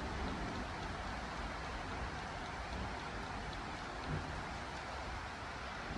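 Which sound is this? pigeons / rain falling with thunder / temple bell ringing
rain falling with thunder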